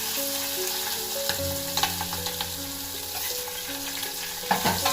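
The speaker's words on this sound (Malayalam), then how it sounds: "ഇനി ഇതും ഈ ഉള്ളിയും നന്നായിട്ട് വറുത്തെടുക്കണം" Steady, loud sizzle of mustard seeds, dried red chilies, curry leaves, shallots and green chilies frying, with occasional stirring scrapes and clinks in a pan, continuous throughout with no talking.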